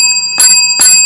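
A hand bell used as a prop in a classical conditioning demonstration with a dog rings out twice in bright, sustained metallic strokes, about half a second apart, close and loud.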